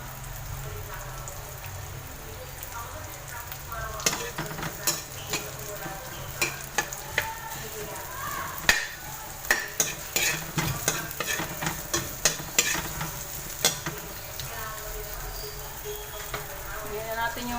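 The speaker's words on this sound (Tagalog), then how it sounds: "Lutuin natin yung sibuyas, guys." Onions sautéing in a pan, a steady sizzle throughout with frequent clinks and scrapes of a utensil stirring, while a person talks at times.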